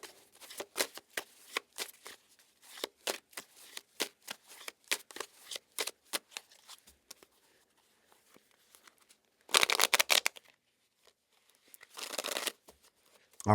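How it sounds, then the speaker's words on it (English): A deck of tarot cards being shuffled by hand: a run of quick papery flicks and riffles, then a pause, followed by two louder, denser bursts of cards riffling together, close-up with no talking. "let's cut this deck and give it a whirl"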